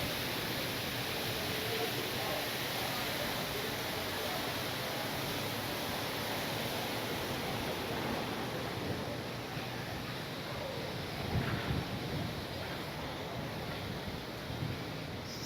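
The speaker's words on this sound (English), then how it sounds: "it gets quite windy at this specific spot." Strong, steady wind roars and buffets the microphone throughout at an outdoor spot in Aruba's capital, a broad continuous rush with no letup.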